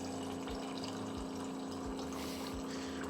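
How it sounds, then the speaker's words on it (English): Tap water running steadily into a container, a continuous close pouring rush with a low humming pump-like drone underneath, no talking. "All you're going to hear is water."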